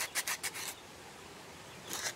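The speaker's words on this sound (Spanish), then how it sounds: "esta masilla es más blanda y es más fácil bajarla con lija" Sandpaper rubbing over soft plastic filler putty in a metal foundry workshop, a few quick raspy strokes near the start and another burst at the end, with a quiet pause between.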